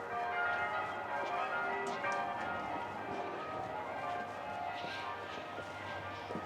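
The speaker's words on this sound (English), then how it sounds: "I think there is something going on in the church with the bells going." Church bells ring at a distance over a weekend campsite near Stockbridge, a faint, repeating metallic chime set against steady low background noise and no nearby speech.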